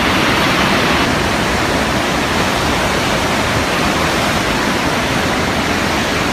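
Water rushes down the Oroville Dam spillway in a loud, steady, broadband roar that continues unbroken throughout, with no voices over it.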